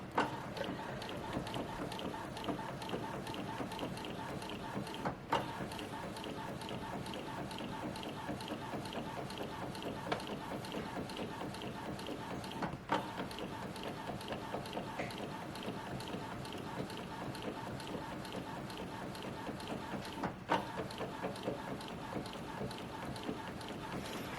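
A DTF printer printing onto film at work nearby: a quiet, steady mechanical whir with faint regular clicks and soft knocks through the run.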